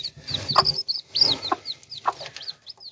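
A brooding hen gives soft, repeated clucks and short chirpy calls in an irregular rhythm, close by and fairly quiet, with a faint low background hum.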